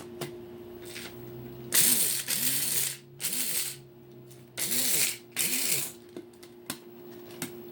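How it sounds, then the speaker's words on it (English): A blender pulses dehydrated eggs into powder in short bursts of whirring, about five or six quick on-off pulses with brief pauses between, close and moderately loud. "And you just keep pulsing it until it is powder."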